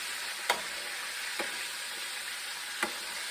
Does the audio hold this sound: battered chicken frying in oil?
yes